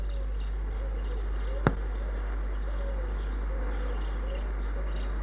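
Faint pigeon or dove coos drift in from a garden, soft repeated calls behind a steady low hum, broken by a single sharp click early on.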